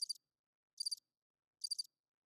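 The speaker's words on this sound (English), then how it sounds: "Crickets." Three short, evenly spaced bursts of cricket chirps, used as a sound effect, sound clear and close against total silence between them.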